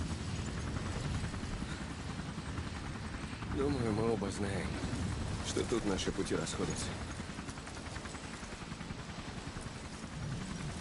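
A helicopter in Resident Evil 4 Remake drones with a steady rotor chop underneath in-game dialogue, continuous and moderately loud for the whole stretch, with a voice talking over it in the middle.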